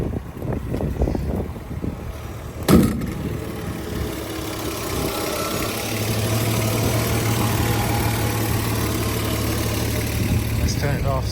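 A 1983 Jeep CJ-7 Renegade fitted with Howell fuel injection idles steadily, a low even rumble that settles into a smooth hum, with a sharp thump near the start and some speech early on.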